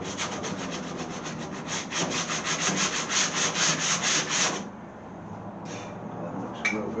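Sandpaper rubs back and forth on the trunk edge of a 1929 Chrysler, a quick rhythmic series of close scratchy strokes that stops abruptly, followed by quiet shop ambience.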